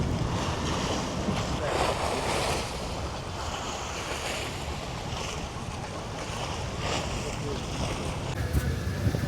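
Turbulent waters of the Ganga river at Diamond Harbour, a continuous rough wash of waves and surf mixed with heavy wind buffeting the microphone, steady and loud throughout with faint voices underneath.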